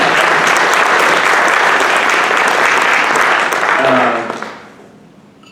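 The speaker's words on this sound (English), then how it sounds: "Let's give them a round of applause." Sustained, loud audience applause at a North Country young professionals' gathering, with dense clapping for about four seconds before it fades out. A brief voice cuts in as the clapping dies away.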